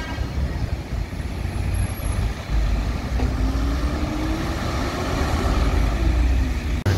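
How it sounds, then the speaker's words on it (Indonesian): A Sempati Star intercity bus from Medan rolls into a bus terminal, its engine a loud, steady low rumble with a rising whine, close by and continuous, with no talk over it. "ada bus Sempatista dari Medan. Masuk dia."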